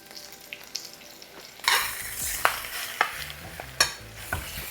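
Swiss chard sautéing and wilting in a pan: a low sizzle swells suddenly and then holds steady, with repeated close spatula taps and scrapes against the pan at an uneven rhythm, and no talking.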